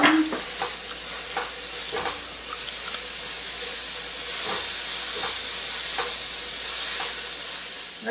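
Onion with ginger and garlic paste sizzling in a pan for dahi aloo, a continuous frying hiss with periodic scraping stirs of a spoon, close and steady.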